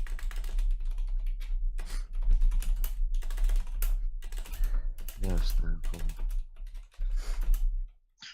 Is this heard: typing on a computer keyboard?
yes